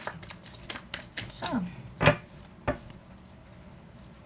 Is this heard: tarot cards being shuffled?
yes